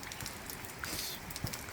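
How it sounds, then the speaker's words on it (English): Rain hitting concrete beside a barn and splashing back, a steady fine patter of drops with a few louder splats, heard alone up close. "Rain hitting the concrete there and splashing back."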